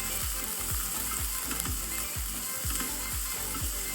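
Chopped onions and green chilies fry in a pan for a jackfruit vegetable dish, with a steady bright sizzle under a regular clicking tap of stirring roughly every half second.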